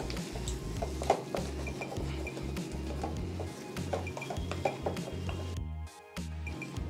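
Roasted ground fennel stirred into mutton liver pepper fry in a pan, with repeated close scrapes and clinks of a metal spoon over a steady sizzle and a low rhythmic background hum.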